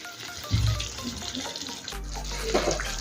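Water from rinsing a mixer-grinder jar pours into chicken cooking in a pot with yogurt, fried onion and spice paste, giving a soft, close splashing gurgle that swells near the end against a faint background sizzle.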